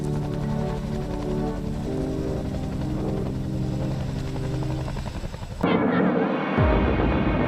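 Loud, close CH-53 helicopter rotor drone with heavy engine whine during a U.S. Marines external lift, steady throughout before shifting abruptly near the end as the roar intensifies.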